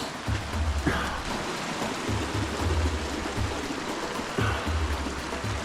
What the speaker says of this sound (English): Water's coming from the glacier, from Kilimanjaro, down this way